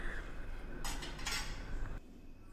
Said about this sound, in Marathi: मी आणखीन ऑरेंज कलर यामध्ये टाकला आणि छान असं मिक्स करते